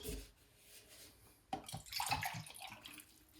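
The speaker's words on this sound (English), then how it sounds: "let's go ahead and get some water for the plants" Tap water runs to fill a container for watering houseplants, starting abruptly with a clunk partway through, then rushing and splashing steadily, close and fairly loud with no talking.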